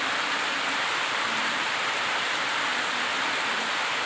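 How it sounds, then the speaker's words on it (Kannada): Heavy, steady rain falls without pause, a broad even wash of drops holding at moderate level throughout with no talk over it. "ಇವತ್ತಂತೂ ತುಂಬ ಅಂದರೆ ತುಂಬ ಮಳೆ."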